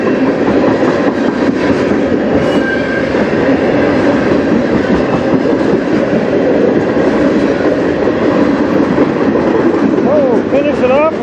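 A CN freight train passes close by on the Strathroy Subdivision near Sarnia, Ontario, in cold weather, a loud continuous rumble with rhythmic clickety-clack of wheels and a brief high wheel squeal near the end.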